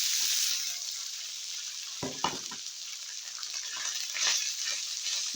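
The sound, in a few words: frying garlic for fried rice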